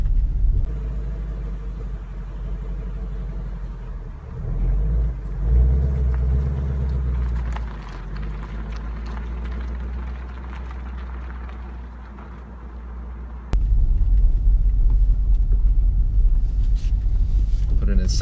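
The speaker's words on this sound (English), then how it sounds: "Car is slowly starting to move." A manual car creeps forward on the clutch alone with no throttle, its engine idling as a low, steady rumble that grows heavier partway through, with muffled cabin noise.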